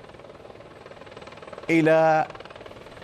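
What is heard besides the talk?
helicopter arriving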